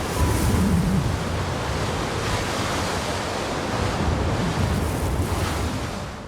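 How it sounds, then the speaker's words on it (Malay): Strong, gusty wind roars steadily and loudly throughout, a dense broadband rush with slight swells, close to the microphone and with no voices. "Angin tiba-tiba bertiup dengan kencang dan kuat."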